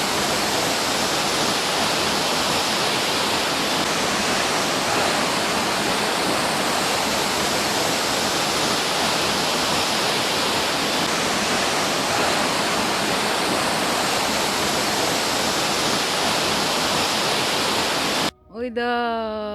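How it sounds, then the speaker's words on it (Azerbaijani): A waterfall at Şahdağ in Azerbaijan roars as a steady, loud, broadband rush of falling water, unchanging throughout, with a brief different sound cutting in at the very end. "Amma şəlalə ləzzətlidir, çox ləzzətlidir."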